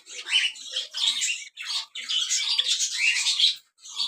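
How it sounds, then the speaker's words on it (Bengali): Caged pet cockatiels and silver and white java sparrows chatter and squawk in close, busy bursts, with short pauses between calls and no talk. "এই সাইডে এক জোড়া ককাটেল। এখানে এক জোড়া সিলভার জাভা, তার উপরে এক জোড়া হোয়াইট জাভা।"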